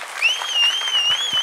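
A comedy-show studio audience claps in a quick, dense patter while a high, wavering whistle rings over it throughout.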